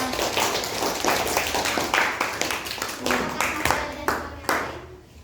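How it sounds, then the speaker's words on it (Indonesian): A small classroom group claps for a student, individual hand claps clearly audible in quick, uneven bursts that taper off and stop near the end. "berikan tepuk tangan untuk Klesia"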